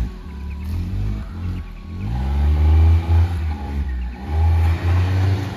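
A small Maruti hatchback, an Alto 800 or Maruti 800, revs hard while off-roading with its tyres spinning, the engine surging and dropping repeatedly in loud, close bursts.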